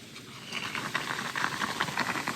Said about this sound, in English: Oh, I can hear it bubbling.